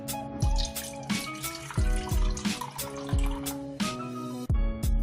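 Water being poured into a pot, with irregular splashes and bubbly, hollow-sounding drips falling in a loose rhythm, close by and without speech.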